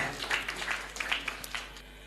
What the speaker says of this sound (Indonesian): tepuk tangan Pak SBY